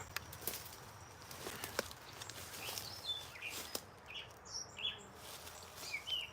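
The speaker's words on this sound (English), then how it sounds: "Listen to the birds." Faint birds chirp and tweet on and off in the distance over a quiet outdoor hush, with a little rustling of steps.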